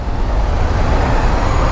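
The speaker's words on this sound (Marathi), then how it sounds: "अडकलं इथं, ट्रॅफिक काय यार झाली" Steady, dense road traffic rumbles on a busy Mumbai road heard from a bike stuck in a jam, a continuous low roar of engines with no break, loud and close throughout.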